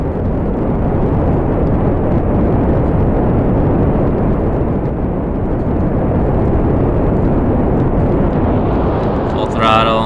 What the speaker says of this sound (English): Full throttle as we burn up the rest of the fuel in these booster tanks.